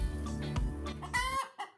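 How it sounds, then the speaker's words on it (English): Brown hen clucking loudly after laying an egg, a run of insistent squawking calls close by with no talk. "just listen to Brownie announcing the fact that she just laid an egg."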